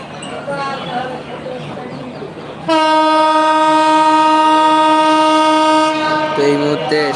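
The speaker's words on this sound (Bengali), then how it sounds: "এই মুহূর্তে 715 কপোতাক্ষ এক্সপ্রেস ট্রেনটি আজিমনগর রেল স্টেশন ভবন ছেড়ে যাচ্ছে" The 715 Kapotaksha Express departing Azim Nagar railway station sounds a loud, sustained horn blast lasting a few seconds over rumbling rail noise, with a person speaking before it and a rooster audible nearby.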